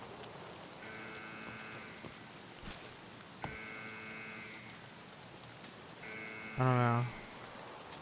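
Rain patters steadily in Escape from Tarkov, a soft constant hiss with tonal siren-like blips recurring in the background, a brief voice speaking, and a louder burst near the end.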